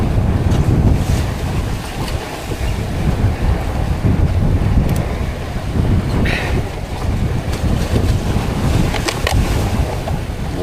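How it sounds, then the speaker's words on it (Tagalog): Strong Pacific Ocean waves surge and wash continuously around a fishing boat, mixed with heavy wind buffeting the microphone, loud and close, with no voices. "Grabing alon mga amigo. Intense ang berada, intense ng alon."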